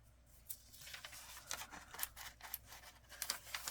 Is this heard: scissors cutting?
yes